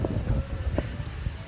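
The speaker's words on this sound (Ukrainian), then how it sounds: "Вітер, правда, трошки, але це добре, бо хоч комарів не так багато." Wind buffets a microphone at a campsite in Riding Mountain National Park, a steady low rumble with gusty swells that stays close and constant, with no voices.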